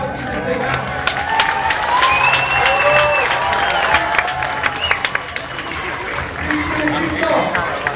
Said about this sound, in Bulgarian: ръкопляскайте сега.